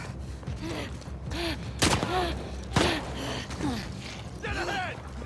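Gunfire in The Last of Us Part II, two sharp shots a second apart amid frantic shouting and gasping voices, with scattered clatter around them.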